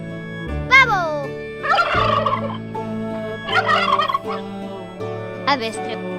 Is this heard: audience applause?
no